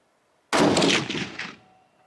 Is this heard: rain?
no